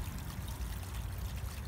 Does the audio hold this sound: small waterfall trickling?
yes